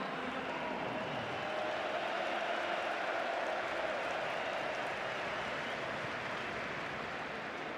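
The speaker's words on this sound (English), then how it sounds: "As you can hear, even the Croatian supporters are cheering Olmo." Croatian football supporters at the Croatia versus Spain Nations League final cheer and applaud, a dense, steady roar of crowd noise and clapping from a large stadium throughout.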